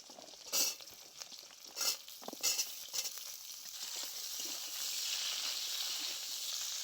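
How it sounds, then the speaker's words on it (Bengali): Drumsticks and slit green chillies frying in mustard oil, a few sharp bursts of stirring early on, then a soft, steady hiss that grows slightly louder toward the end, with no speech. "কাঁচা লঙ্কা ফোড়নের সঙ্গে বেশ কিছুক্ষণ সজনে ডাঁটা কষিয়ে নিয়েছি"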